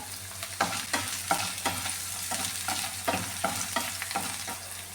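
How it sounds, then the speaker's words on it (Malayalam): Onions and dried red chillies sauté in a pan under a steady sizzle, with repeated rhythmic scrapes from a spatula stirring about twice a second, close and clear. "ഉള്ളിയൊക്കെ നന്നായിട്ടൊന്ന് വഴക്കിയെടുക്കാം വറ്റൽ മുളക് അതും കൂടെ ഇട്ട് കൊടുക്കാം"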